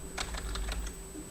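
Computer keyboard typing in a quick burst of about eight light clicks, followed by a quieter pause with a couple of faint taps over a low background hum.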